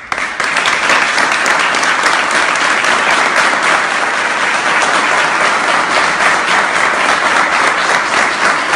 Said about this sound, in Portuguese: pedir que o time que aqui está ofereça para você que está nos acompanhando aqui nesse vídeo uma salva de palmas